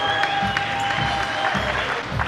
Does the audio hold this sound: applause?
yes